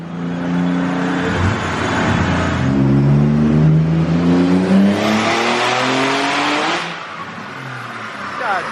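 A twin-turbo Nissan 370Z revs hard on a dyno, its loud engine note climbing steadily through a long pull with turbo whine before backing off. A voice talks briefly over the engine.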